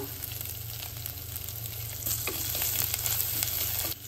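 Curry leaves hit hot oil in a pan for a Marathi ridge gourd rice dish, giving a steady, faint crackling sizzle that swells slightly midway, close by with no talking.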